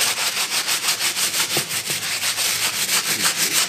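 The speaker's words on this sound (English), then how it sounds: "Try to scrub your hardware." A leather saddle being scrubbed during washing, steady back-and-forth brushing strokes in an even rapid rhythm, close and continuous with no talk.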